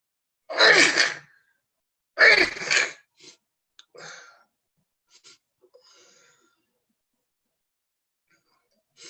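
Two sharp, breathy sneezes burst out over a remote city council meeting audio line, close and loud, followed by faint shuffling and small noises before near silence.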